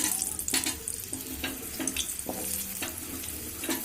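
Potatoes frying in hot oil for a Bengali vegetarian shukto, a steady close sizzle with a few sharp spattering bursts and faint clinks of stirring throughout.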